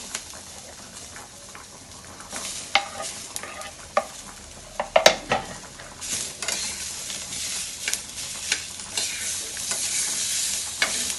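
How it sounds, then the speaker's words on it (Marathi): Onion and tomato sauté in a pan for misal, a continuous close sizzle broken by frequent sharp scrapes and clicks of a spatula stirring against the pan. "हे छान परतवून घेऊया टोमॅटो टाकलाय आहे"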